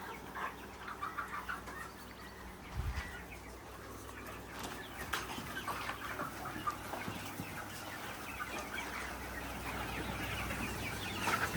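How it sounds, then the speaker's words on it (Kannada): Native country chickens and a fighter rooster cluck softly and intermittently on a small farm raising about 300 birds, with quiet, scattered calls over low background noise. "ಇದೊಂದು ಫೈಟರ್ ಹುಂಜ."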